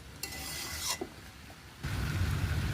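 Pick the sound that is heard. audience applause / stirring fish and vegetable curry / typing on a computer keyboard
stirring fish and vegetable curry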